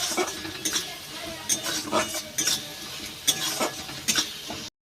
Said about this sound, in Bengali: এইবার সমস্ত মশলাগুলো ভালো করে আবার কষিয়ে নেব।